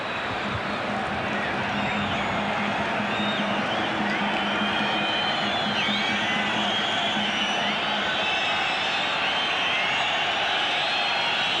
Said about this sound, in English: Whistles from the crowd because there's a Ghanaian player hurt over the far side.